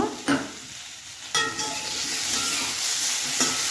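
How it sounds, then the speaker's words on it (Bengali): Steady sizzling of potatoes frying in hot oil, with a couple of short scraping stirs near the start and a constant hiss throughout. "এরকম আলু ভাজাগুলো আলু করে ভালো করে ভেজে নেব"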